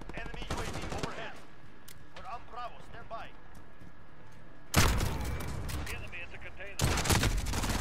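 Sniper rifle shots in a video game: two loud, sharp cracks with heavy rumbling tails land a couple of seconds apart, following a stretch of chatter and game noise with voices.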